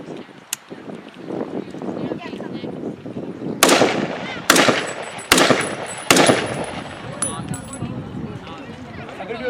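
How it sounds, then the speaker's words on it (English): WWII reenactment rifle fired four times at an outdoor frontier-days event, loud sharp cracks spaced roughly a second apart, with crowd murmur and talk underneath. "I'm going to do 4 rounds of fire."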